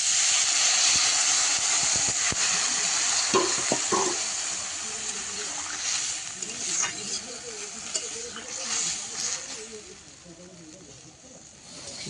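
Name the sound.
bitter gourd frying in a pan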